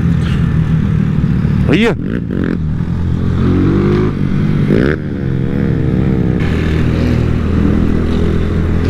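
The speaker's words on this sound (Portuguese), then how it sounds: "agora não dá pra nem pra contar as motos. Tem umas 15 motos aqui, velho" Several motorcycles, including a Titan 160, ride together through a neighborhood, a steady loud engine drone with revving swells and a passing whine, a voice speaking briefly over it.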